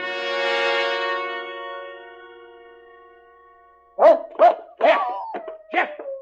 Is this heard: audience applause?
no